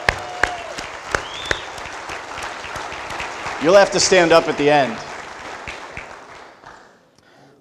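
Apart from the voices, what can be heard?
audience applause at hall of fame ceremony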